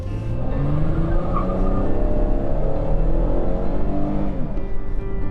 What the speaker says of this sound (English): I can hear the sound of dub dub dub dub dub. That's coming from the sound of the tires